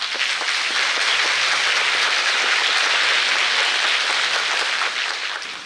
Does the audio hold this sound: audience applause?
yes